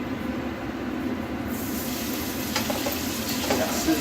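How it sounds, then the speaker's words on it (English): Spaghetti carbonara sizzles in a frying pan, a steady broadband hiss and crackle of hot fat that runs unbroken and fairly close, with a brief high whine fading early and a few stirring scrapes toward the end. "See that sizzling?"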